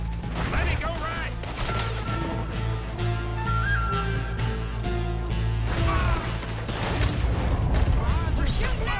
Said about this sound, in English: We're shooting now!